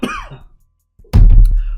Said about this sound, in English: I started coughing so hard